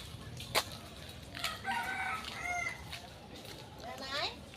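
A rooster crows with other chickens nearby in a rural village yard, a few drawn-out calls ringing out at mid distance over a faint background murmur.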